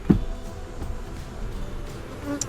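Honeybees buzzing during a late April hive inspection, a steady low hum of many insects around the open hive, moderately loud and continuous, with a soft knock at the start.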